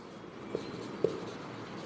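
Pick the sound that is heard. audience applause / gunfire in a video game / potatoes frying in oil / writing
writing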